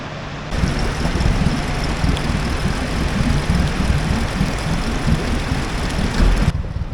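Dinghy outboard motor running steadily at close range, a loud, continuous low engine drone with a rough, churning texture and no voices over it.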